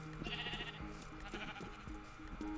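Several Minecraft sheep bleat in short, repeated calls that overlap, set over quiet background game sounds with no speech.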